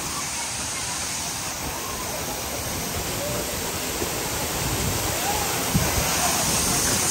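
Khandi waterfall in the Sahyadri hills near Pune roars as a loud, continuous broadband rush of falling water, close and unbroken, swelling slightly toward the end.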